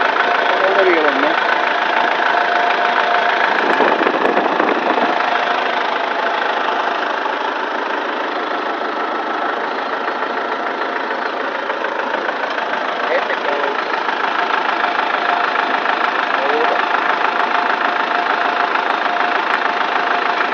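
A Kubota M108s diesel tractor idles steadily in a field during a fuel injection purge, a loud, even, continuous rumble from close by that holds one unchanging note the whole time.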